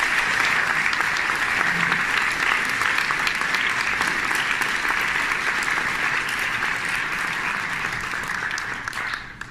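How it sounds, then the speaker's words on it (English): Sustained applause from an audience at a fundraiser event, steady and dense clapping throughout, tapering slightly toward the end with no talk over it. "So I think that deserves a good round of applause."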